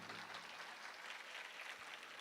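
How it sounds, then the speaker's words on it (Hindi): Audience clapping at a Hindu Shrimad Bhagavat Katha religious discourse, a steady dense wash of many hands applauding together throughout, moderately loud and continuous with no talk over it. "तो एक बार हमारे यादव परिवार के लिए जोरदार ताली बजाओ आप लोग।"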